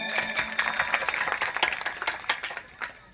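A crowd claps steadily at a Warkari religious school gathering during Haripath recitation, with many hands clapping close together in a brisk, uneven patter that slowly tapers off.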